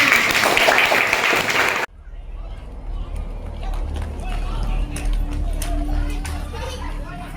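Classroom applause from students, a burst of loud clapping that cuts off abruptly after a couple of seconds, followed by quieter room noise and scattered voices.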